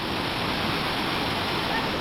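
Kothapalli Waterfalls in Andhra Pradesh, water pouring over rocks in the rainy season: a loud, steady, broadband roar with no breaks, close and alone.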